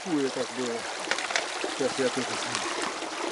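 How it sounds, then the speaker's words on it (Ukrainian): Mountain stream running straight across a rough dirt road in the Carpathians, a steady broadband wash of flowing water with talk over it throughout. "Речка тече прямо по, по дороге."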